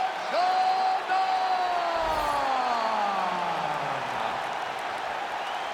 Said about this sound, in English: Always a rowdy crowd here inside United Center in Chicago, Illinois